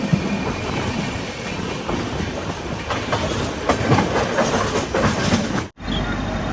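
Saraighat Express rolling past the Howrah electric loco shed, a loud steady rumble with rhythmic clickety-clack wheel beats, briefly cut by a momentary dropout near the end.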